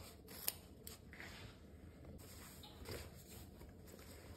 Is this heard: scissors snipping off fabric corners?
yes